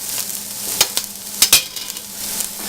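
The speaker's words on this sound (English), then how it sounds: "I've got some onions and some celery sweating down in the pan here with a little bit of bacon fat." Onions and celery sweat in bacon fat in a pan with a steady close sizzle, punctuated by several sharp scrapes and clinks of a utensil stirring.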